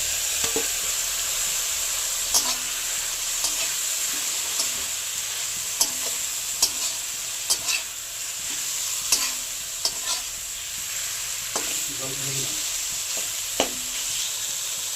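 Mustard-poppy seed and green chili paste stir-fried in a pan for a water lily (shapla) dish, with a steady bright sizzle and repeated sharp spatula scrapes and taps, close and alone.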